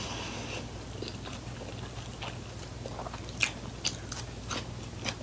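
Someone eats extra cheesy spicy noodles up close, with soft chewing and a few sharp crunchy bites and slurps scattered over several seconds, no talking.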